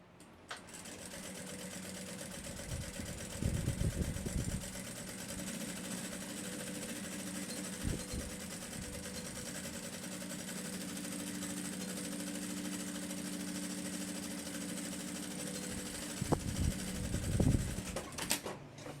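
A sewing machine stitches a backpack lining in a long continuous whir, fairly quiet and even, with brief handling knocks near the start and end.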